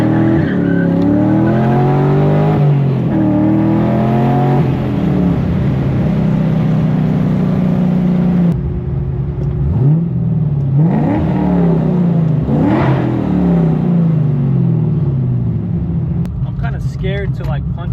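An Infiniti G35 with a swapped LS V8 revs and accelerates hard, its engine note climbing and falling in repeated sweeping pulls, loud and close, with a brief easing off midway before pulling again.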